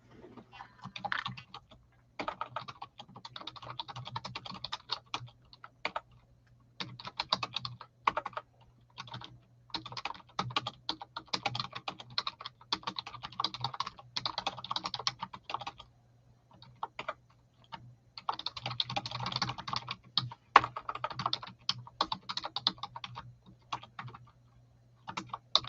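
Continuous typing on a computer keyboard at close range, with bursts of rapid key clicks broken by short pauses, heard alone without talk.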